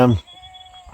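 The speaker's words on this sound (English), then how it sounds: "we're surrounded by goats at the moment. You can probably hear them crying" A single goat bleats close by in a field, a short wavering cry that fades into quiet outdoor ambience.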